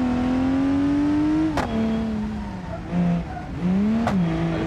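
A car in the BeamNG.drive driving game slowing hard with the engine whining and pitch sliding downward, punctuated by two sharp squeal bursts, steady and fairly loud with no talk.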